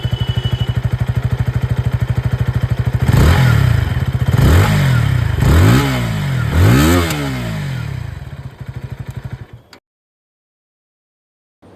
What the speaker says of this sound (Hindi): और अब मैं आप लोगों को यहाँ पर इस बाइक की जो एग्जॉस्ट साउंड है वो भी सुना देता हूँ।